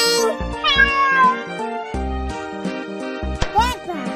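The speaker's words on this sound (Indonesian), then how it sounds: "kucing" A cat meows several times in quick succession, close and clear, with rising and falling cries over a light jingling musical backing in an animal-names learning piece for children.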